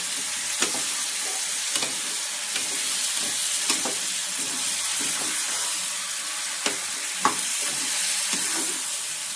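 Oil sizzles steadily in a pan while a spoon stirs and scrapes through frying pumpkin pieces, with sharp clinks at irregular moments; no voices.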